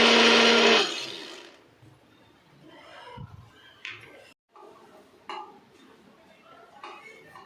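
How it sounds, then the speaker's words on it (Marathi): A kitchen mixer grinder whirs loudly as it blitzes roasted peanuts, lentils and sesame seeds for a one-second burst at the start. It then cuts off, leaving quiet room noise with a few faint clinks. "आता हे आपण मिक्सरमध्ये सर्व काढून घेऊया"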